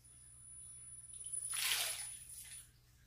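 A WowWee HydraQuad toy drone splashes and sloshes in water in one soft swell of spray that rises and fades, with a steady high whine and low hum underneath.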